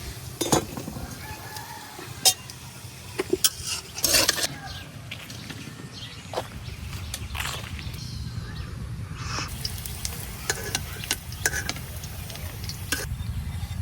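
Lentil fritters (masoor dal bora) frying in a pan, a continuous low sizzle with scattered clinks and scraping stirs, a rooster crowing faintly in the background outdoors.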